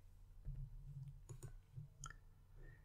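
A few sharp computer mouse clicks while working in Power Query, separated by short gaps, over a low steady background hum.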